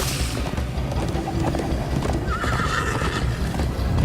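Galloping horse in the Minecraft: Story Mode video game, with rapid continuous hoofbeats and a whinny rising over a loud, busy action soundtrack.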